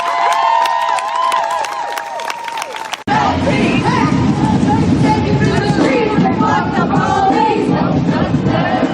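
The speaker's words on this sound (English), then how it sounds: "Let's just give them another round of applause." Crowd at a street protest in Portland, loud cheering, whooping and clapping that erupts suddenly after a short stretch of other sound and continues as a dense, close roar.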